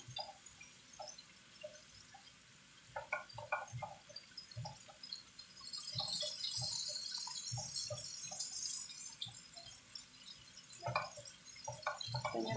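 Pork fat melting and bubbling in a pan, soft irregular pops and drips at close range, quiet at first, then a denser sizzling wash in the middle before thinning out again.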